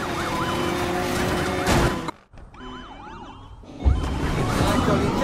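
Wailing police sirens from multiple cruisers in the racing video game Need for Speed Payback, looping loudly over engine roar, briefly dropping out before swelling back in.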